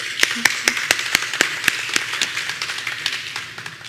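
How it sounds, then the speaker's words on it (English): Graduates of Nevis International Secondary School applaud at a 2022 graduation ceremony with sharp, scattered claps that start fairly loud and close, then thin out and fade, with some crowd murmur underneath. "Give yourselves a round of applause."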